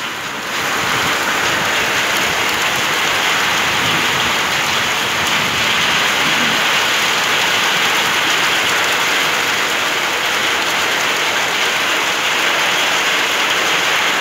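Heavy rain pours down during a hard spring storm in Uyali, a loud, dense and constant hiss of water hitting surfaces that holds steady throughout, with no voices.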